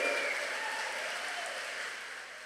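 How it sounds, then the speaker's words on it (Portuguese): A congregation at a church congress applauds, with steady dense clapping from a large crowd that sounds somewhat distant and fades slightly over a couple of seconds. "uma salva de palmas para Jesus Cristo"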